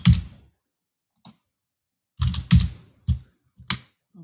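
Numbers typed on a computer keyboard, a few crisp clicks at first, a pause, then a quick irregular burst of key presses, close and dry in a quiet room.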